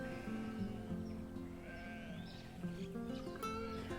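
Sheep on a farm that raises lambs bleat repeatedly, several overlapping calls nearby with steady low farm background noise.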